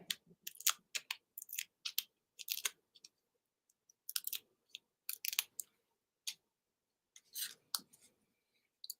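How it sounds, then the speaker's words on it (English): Adhesive paper pieces peeled off their backing for a garden-themed card, a series of short, crisp, close tearing and crackling bursts with brief pauses between them, quiet overall and with no talking. "So let's peel these off."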